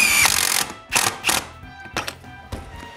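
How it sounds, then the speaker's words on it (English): A screw driven into a wooden brace on an interior shop wall, with short mechanical whirring bursts and clicks of the driver in a quiet room. "Then I screw both screws."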